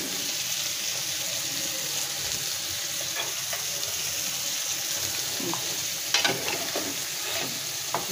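Lentils (dal) being stirred together with a fish head in a sizzling pot, a steady bubbling hiss throughout with a few soft scraping stirs near the end; close and continuous, no talk.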